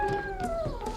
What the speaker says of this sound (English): And that's a cat.